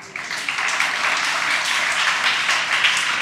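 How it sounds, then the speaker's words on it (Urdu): Audience applause at a children's assembly in Lahore, a steady, dense wash of many hands clapping that carries through the whole stretch without letting up. "تالیوں کے مستحق ہیں"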